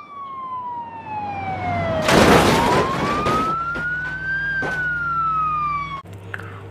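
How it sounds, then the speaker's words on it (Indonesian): A toy ambulance siren wails with an electronic tone that slides down, then climbs again, while a brief burst of rustling noise passes through the middle. It stays fairly loud and close throughout. "Ini ada mobil ambulans."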